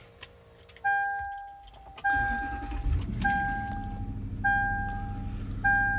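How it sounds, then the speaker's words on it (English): Lexus GX470 remote start system chirping in two-tone beeps, then the engine cranking and catching into a steady low idle, with repeated beep pairs continuing over the running engine. "So let's go ahead and remote start it again."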